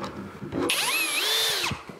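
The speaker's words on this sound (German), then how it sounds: "Ist das zusammengespannt, dann kann ich da bohren." A power drill boring into clamped wood joined with a Mafell Duodübler dowelling setup, one loud steady whine with rising and falling pitch lasting about a second, after faint handling noises.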